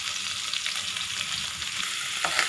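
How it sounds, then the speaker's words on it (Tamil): Green chili paste fries steadily in a pan, a continuous close sizzle with light crackle and no voices. "இப்போ இதை நல்லா ஃப்ரை பண்ணிக்கோங்க"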